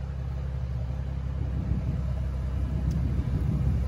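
Steady low rumble of a BMW 135i engine idling after a remote start, a continuous close hum heard alone with no talk.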